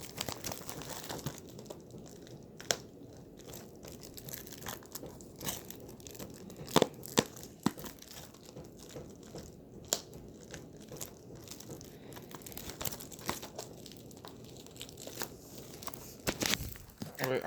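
Toy Story 4 Blu-ray case and Bo Peep toy packaging being unboxed, with close crinkling, crunching and tearing of plastic and cardboard in scattered bursts, plus a few sharp clicks and brief talk.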